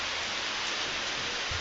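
Steady rain falls outdoors as an even, continuous hiss with no voices, and a faint low thud comes near the end.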